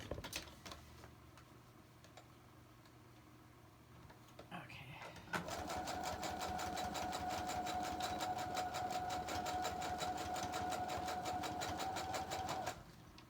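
A domestic sewing machine stitching a zigzag while making a fabric tag, running in a steady rapid mechanical chatter for about eight seconds after some quieter handling sounds and soft talk, close and fairly loud.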